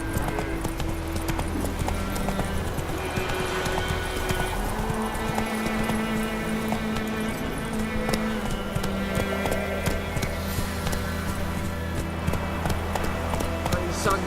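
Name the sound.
horse galloping hooves in The Witcher video game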